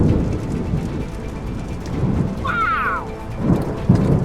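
Steady heavy rain hisses throughout a lightning storm over a lake, with low rumbling thunder rolling underneath and swelling near the end, while someone briefly exclaims.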